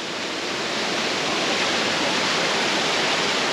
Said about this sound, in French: tu peux aller dans les cascades comme moi